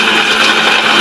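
A mixie jar grinding coconut pieces for jaggery coconut laddu, a loud, steady motor whir with gritty chopping texture, brief and continuous with no talking.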